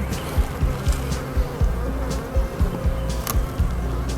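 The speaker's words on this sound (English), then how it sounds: "I got a few worker bees pinging me in the arm." Worker honey bees buzz around an open hive during an inspection, a close, droning hum with repeated low swoops as individual bees fly past, steady and unaccompanied by speech.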